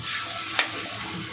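Potatoes being stirred in a hot pan for an aloo-matar paratha filling: a steady, close sizzle of frying with a single sharp scrape of the spoon partway through.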